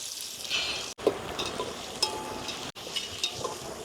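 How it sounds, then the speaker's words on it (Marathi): Onion sizzling in hot oil for chicken sukka, a soft, steady frying hiss with small crackles and a couple of light clinks, close and fairly quiet. "तेल जरा गरम होऊ द्या गरम झाल्यानंतर आपण तर टाकणार आहोत कांदा"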